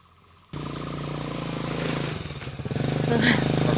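A scooter engine starts up on a road near coffee plantations and waterfalls in Bali, a buzzing motor that rises and pulls away with a short dip and then revs harder, fairly close and with no talk.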